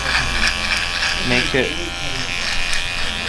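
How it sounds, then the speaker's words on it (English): Electric trimmer buzzing continuously up close while shaping a man's goatee in a barbershop skin fade session, with a voice speaking briefly over the hum. "I am gonna shape up his goatee. I usually like to do this with a trimmer."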